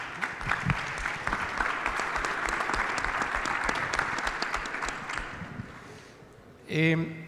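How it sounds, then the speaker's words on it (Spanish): An audience at a large-scale project development conference applauds, sustained dense clapping that gradually fades over about six seconds, followed by a brief voice at the end. "un aplauso por sus 15 años que están festejando aquí."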